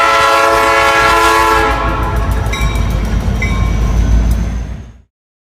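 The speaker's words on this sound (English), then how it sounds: "Train is getting ready to take off." A CSX or Norfolk Southern freight train near the Muncie rail yard sounds its horn in long loud chords, then rolls past with heavy rumbling and clicking wheels before cutting off abruptly.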